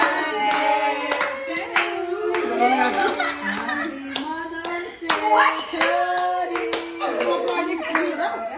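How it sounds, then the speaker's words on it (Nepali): Hands clap repeatedly in quick bursts at a family Mother's Day celebration at home, mixed with a child's and adults' voices talking over the claps. "ल ताली बजाउनु है ताली"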